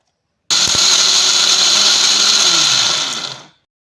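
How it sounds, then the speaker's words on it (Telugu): Mixer grinder whirring loud and steady as it grinds half a shell of fresh raw coconut into an already ground powder, starting abruptly, running for about three seconds, then winding down and stopping. "ఈ పౌడర్లోకి అరచిప్ప పచ్చి కొబ్బరిని వేసుకొని మరి ఒకసారి మిక్సీ చేసుకోవాలి"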